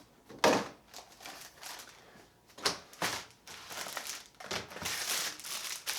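A plastic bag holding sprues of a 1:48 Hawker Hurricane Mk. IIc model kit is handled and opened close by, giving sharp crinkling bursts separated by brief quiet gaps, then a steadier run of rustling.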